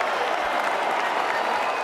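A basketball arena crowd roars and applauds in a steady, dense wash of noise during the game where LeBron James broke the NBA all-time scoring record.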